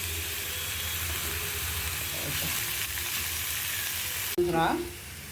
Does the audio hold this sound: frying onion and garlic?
yes